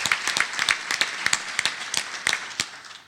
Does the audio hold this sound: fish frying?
no